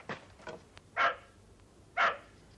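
A dog barks at close range, two loud, sharp single barks about a second apart, with softer yips just before them.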